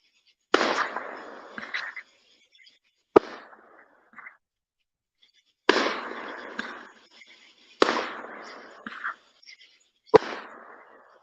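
Large fireworks bursting loudly overhead in a nighttime neighborhood display, five sharp booming blasts each followed by crackling, with short quiet gaps between rounds.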